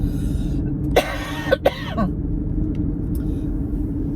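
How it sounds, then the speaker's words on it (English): A person coughs a few times and then clears their throat, close by, over a steady low vehicle rumble. "I gotta cough again and clear"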